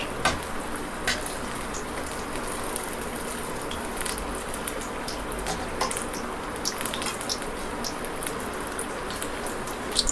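Chilli bajji frying in hot oil until browned, street-style, a continuous dense bubbling sizzle with scattered crackles, close and steady throughout with no talk.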